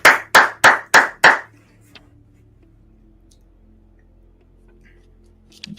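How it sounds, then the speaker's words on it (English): Five more crisp hand claps in quick succession, loud and close, coming from within smoke, followed by a quiet low hum. "Clapping continues."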